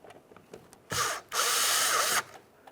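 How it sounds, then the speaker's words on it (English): A Phillips driver runs a small mounting screw into plastic during a front window regulator replacement on a 2012-2015 Honda Civic. Close up, a short whirring burst is followed by a longer one, with quiet around them and no talk. "Use our Phillips head to snug it up."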